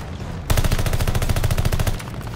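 Rapid automatic gunfire in the video game Call of Duty Vanguard, a loud sustained burst of evenly spaced shots lasting about a second and a half over steady game ambience.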